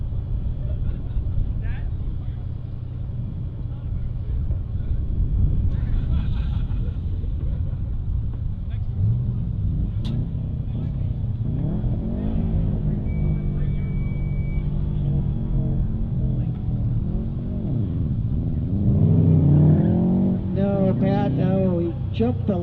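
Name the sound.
Subaru and Camaro race cars at drag race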